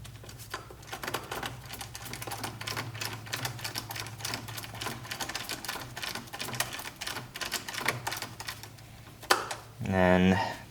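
Small multi-tool clicking and ratcheting as it loosens the bolts on a Carbnlab turbo inlet being fitted to an Audi B9 S4/S5/SQ5, a quick run of close, steady ticks over a low hum, with a brief louder rattle near the end.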